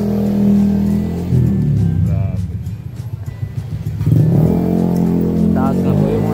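Tricycle motor passing close by on a street, engine droning and rising as it approaches and moves off, with a person talking over it.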